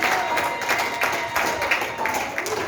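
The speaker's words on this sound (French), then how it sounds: "We clap for the Lord." A church congregation in Portland, Maine claps during a Sunday service, a steady wash of many hands applauding with crowd voices and cheers mixed in throughout.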